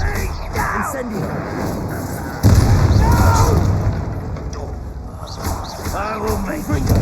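A fire spell cast in the Hogwarts Legacy video game gives a sudden loud whooshing burst that swells, then rolls on as a sustained roar with crackle. Game voices speak over and around it.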